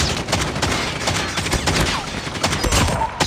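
ECHO shotgun fire in the Call of Duty Mobile video game, a loud, dense run of rapid gunshot blasts and impacts that continues without pause through a busy battle soundtrack, with no speech.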